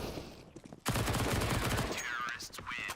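Rapid AK rifle fire in a Counter-Strike match, a dense, loud burst of shots breaking in after a short lull, with caster commentary running over it.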